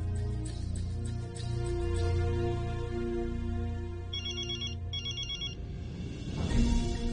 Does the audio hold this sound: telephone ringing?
yes